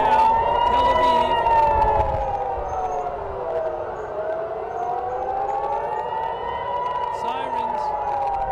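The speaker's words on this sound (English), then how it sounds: "Sirens." Air raid sirens in Tel Aviv sound continuously, loud and near, the tone slowly dipping and rising again in long waves over a steady wash of city noise.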